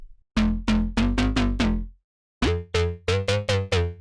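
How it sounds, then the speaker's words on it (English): Bass Knifer synth bass sample from an STMPD-style sample pack, containing a 7 note: a run of six punchy, sustained notes, a short gap, then six more at a higher pitch, loud and alone with no talking. "Bass Knifer is really nice and it has a 7 note in there and it sounds like"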